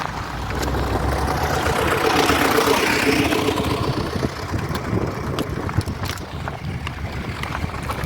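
A vehicle creeps carefully over a rough, broken stony road near Bagrakote, its engine droning steadily at close range with continuous low rumble and jolting, crunching noise for the whole stretch.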